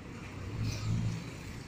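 Cars passing along an avenue, a low steady traffic rumble that swells briefly as a vehicle goes by at moderate distance, with no voices.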